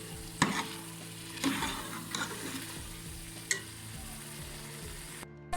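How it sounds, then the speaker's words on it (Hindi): An onion mixture sautés in a pan for a petha kaddu (ash gourd) and black chickpea dish, with a steady sizzle broken by several sharp scraping stirs of a spoon against the pan. "अब इसको हम 2 से 3 मिनट के लिए भूनेंगे।"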